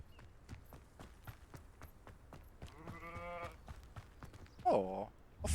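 Sheep in the video game Hogwarts Legacy, bleating twice in quavering calls over a faint, steady rhythm of footsteps, the second bleat louder and closer.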